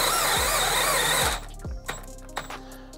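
A compact 12V installation drill with an all-metal chuck whirs at high speed, then cuts off abruptly, leaving a few faint clicks and ticks in the quiet that follows.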